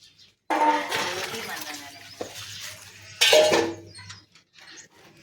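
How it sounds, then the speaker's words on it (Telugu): Pots and plates are washed at a village home. Bright clinks and knocks of metal and crockery come over running water and scrubbing, with a couple of sharp clatters midway. "గిన్నెలు కడుగుతుంది"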